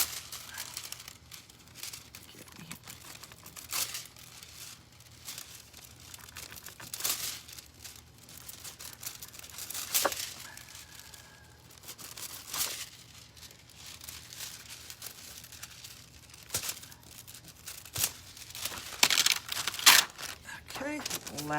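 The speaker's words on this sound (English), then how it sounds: "I need to rub with a little extra foil because it applied thinner in there" Craft foil being rubbed onto a surface for touch-up spots where it went on thin, heard as repeated crinkling, crumpling bursts at close range, with brief voice sounds in places.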